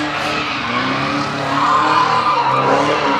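A Mustang slides on a track using a hydraulic hand brake, its tires squealing loudly and continuously under engine roar for a few seconds, close by.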